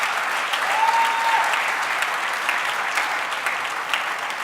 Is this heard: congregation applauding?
yes